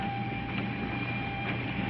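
Passenger train running on rails, heard from inside the carriage: a steady, close rumble with a continuous tonal hum and faint rhythmic wheel clatter throughout.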